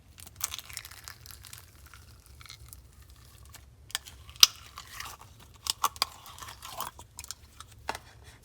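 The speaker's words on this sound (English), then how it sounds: "we have this clear Avalanche with Crunch Slime" Clear avalanche crunch slime is squeezed and pressed by hand, giving quiet crinkly crunching and scattered sharp crackles and pops, close up with no talking.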